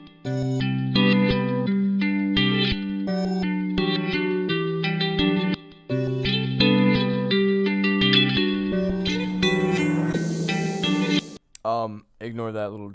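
An edited hyperpop guitar loop plays loudly with chorus and distortion, with a brief dropout near the middle and a noisy swell toward the end. Brief voice sounds come at the close.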